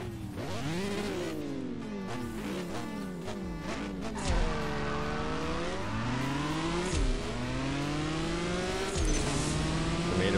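Lamborghini SC20 racing in CSR 2 with nitrous, engine note rising in repeated sweeping gear-change runs, loud and continuous with brief thumps as shifts and a boost kick in.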